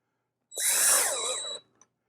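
A power drill whirs in one short burst of about a second while driving screws for an Aqara U300 door lock, then stops with a faint click, nearby and alone.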